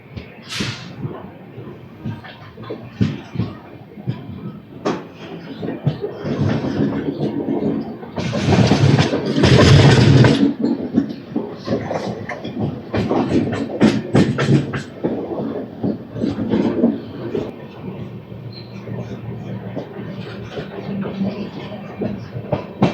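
Leaving Erraguntla Junction, the Venkatadri Superfast Express rolls out with rumbling wheels and clicking rail joints that swell to a loud burst mid-way, while someone speaks intermittently over the noise.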